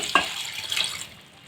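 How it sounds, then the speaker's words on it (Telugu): Water splashes and trickles briefly, poured from a glass into a metal pressure cooker for spinach sambar, fading out within about a second. "ఇప్పుడు మనం వాటర్ యాడ్ చేద్దాం"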